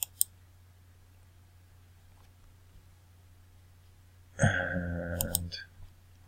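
A computer mouse button clicks on a Preview button in graphics software, two crisp clicks at the start, then a louder rattling burst of clicking later on over a steady low hum.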